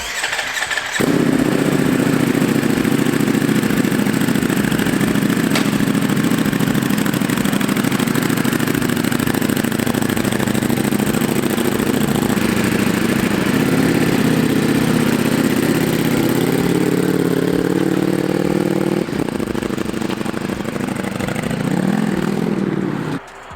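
A Ducati Panigale V4S sport motorcycle runs steadily and loudly up close through a test ride, its engine droning continuously with small shifts in pitch and a brief dip near the end, with no talking.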